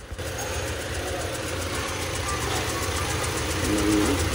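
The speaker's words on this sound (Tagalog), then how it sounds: "yung kanyang makina bago tumaas yung RPM" A Toyota Fortuner engine with a misfire runs steadily close by with a rough, low rumble, the revs rising slightly toward the end.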